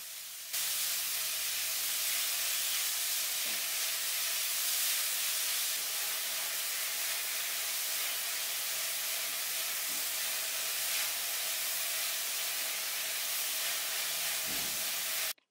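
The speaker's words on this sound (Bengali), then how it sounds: "সবকিছু ভালো করে মিশিয়ে হালকা ভেজে নেব" Vegetables for restaurant-style mixed fried rice stir-frying in a hot pan, a steady loud hiss and sizzle running continuously throughout with occasional faint scraping, no voices.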